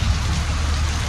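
Rain falls as a steady, dense hiss of drops, constant and fairly loud throughout the short stretch, with a low rumble underneath.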